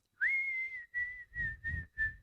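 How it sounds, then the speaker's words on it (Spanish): A person whistles one steady, clear high note in a long opening blow followed by four shorter repeated bursts, close and unaccompanied, with no other sound around it. "y empezaba a silbar"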